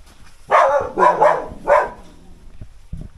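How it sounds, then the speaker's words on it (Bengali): A dog at a house gives three quick barks close by, followed by a couple of faint soft thumps. "কুকুর রয়েছে।"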